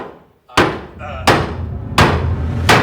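Three loud, sharp hammer strikes spaced about a second apart, close up in a shop during demolition and repairs, each ringing briefly before the next blow.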